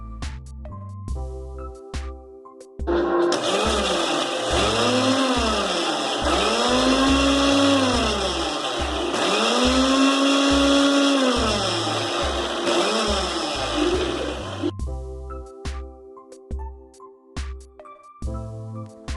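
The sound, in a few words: mixer grinder blending eggs for mayonnaise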